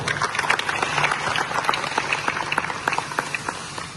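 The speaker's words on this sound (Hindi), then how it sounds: "तो एक बार तालियां बजाइए।" An audience claps at a tree-planting initiative event at an industrial plant, a moderately loud burst of mixed individual claps that swells early and then thins into scattered hand claps toward the end.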